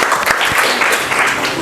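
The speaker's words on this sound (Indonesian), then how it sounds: "Tepuk tangan untuk kelompok" A classroom of pupils gives group 1 a brief burst of dense clapping, loud and close, lasting under two seconds.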